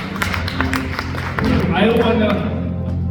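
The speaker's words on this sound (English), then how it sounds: "Big clap of hand to God" A church congregation claps together during a testimony, with dense hand claps over steady crowd noise and a voice speaking above it near the middle.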